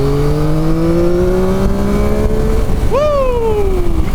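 A 2023 Yamaha MT-09 SP motorcycle revs up loudly under hard acceleration, engine pitch climbing steadily, then a sharp throttle blip leaps upward and trails off over wind noise.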